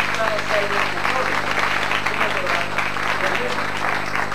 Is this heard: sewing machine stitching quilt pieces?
no